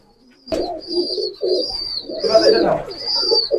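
Five black Teddy pigeons coo close by in several soft, throaty bursts, with faint chirps mixed in.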